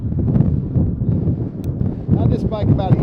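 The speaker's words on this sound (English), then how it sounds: "It's a bit windy today. It's almost always windy around here." Wind buffets the microphone during a ride on a Velotric Nomad 1 e-bike, a loud, continuous rumbling gust noise that fills the whole moment.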